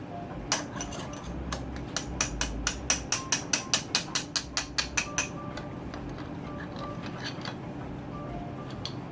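Light hammer taps on a Yamaha YZ125 two-stroke engine during a top end rebuild, a quick run of about twenty sharp metallic clinks in a steady rhythm, close and fairly loud, then quiet.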